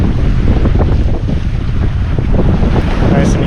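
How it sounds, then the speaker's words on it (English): Sailboat heeled over under sail at about four knots at sea, with heavy wind buffeting the microphone and rushing water against the hull, loud and continuous. "Nice and heeled over and under sail."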